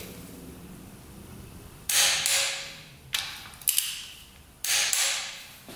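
Ratchet wrench tightening nuts onto the engine studs of a quad, heard as three or four bursts of rapid clicking at close range, each lasting about a second, separated by short quiet pauses.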